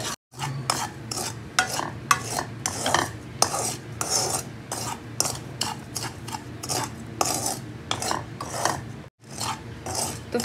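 Semolina roasts over a low flame while a utensil scrapes and stirs it in the pan, giving quick rhythmic strokes over a soft, dry sizzle.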